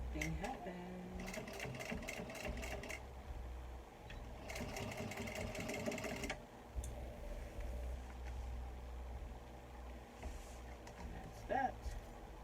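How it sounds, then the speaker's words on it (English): A sewing machine back stitches a small bag in two short, fast bursts of rapid mechanical stitching, close by, with a pause between them, followed by quieter handling sounds and talk. "I'm gonna back stitch this particular area."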